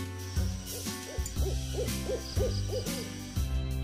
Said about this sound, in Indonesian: Kemudian ini ada burung hantu warnanya coklat.